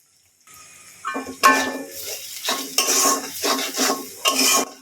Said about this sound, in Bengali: এখন সব মশলাগুলো একত্রে ভেজে নেব